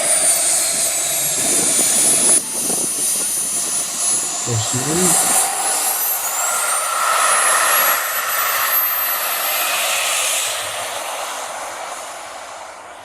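An RC model jet plane with a turbine engine flies past, a loud, steady roar with a thin high whine that holds throughout and eases slightly near the end, while people talk over it.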